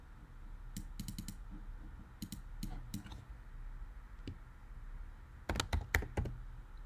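Short bursts of clicky computer keyboard typing, close and fairly quiet, separated by pauses, with a louder final flurry of keystrokes.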